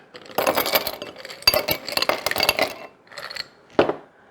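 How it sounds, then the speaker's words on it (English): Ice cubes dropped into a whiskey glass, a close, bright burst of clinking and rattling as several cubes tumble in, then a second run of clatter, a short pause and a last sharp clink. "you have your whiskey glass, and you wanna put some ice in there."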